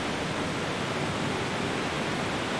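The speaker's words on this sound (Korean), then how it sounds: "하지만 폭포는 겨울에도 얼지 않고 거침없는 물살을 쏟아낸다." A winter waterfall in Norway pours freely without freezing, making a steady, dense rush of water that sounds close and unbroken throughout, with no voices.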